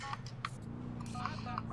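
Phone dialing tones in Grand Theft Auto IV as a call is placed to Roman: a few short, separate tone beeps over a steady low game hum, moderately quiet.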